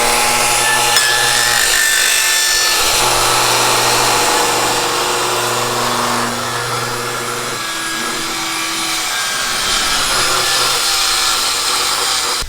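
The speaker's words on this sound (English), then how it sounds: "So we're using the longer track for the Festool track saw." A Festool track saw running along a long guide track, cutting a door with a 1-degree bevel. Loud, steady motor whine with blade noise throughout, with no talk.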